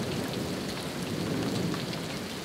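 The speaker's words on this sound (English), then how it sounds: "And the rain is falling." Steady, dense rain pours during an Oklahoma storm, a constant close wash of drops hitting the ground with no breaks or voices.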